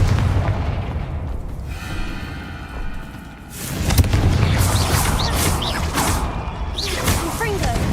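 A Confringo fire spell goes off in the Hogwarts Legacy video game, ending in a deep, booming explosion with a whooshing blast. Crackling debris follows, and voices speak over the effects.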